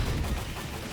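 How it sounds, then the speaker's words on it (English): The big bird explosion skill attack in Phantasy Star Online 2 New Genesis bursts out as a short, booming blast with rough crackling energy, loud and brief. "But now we use big bird explosion time."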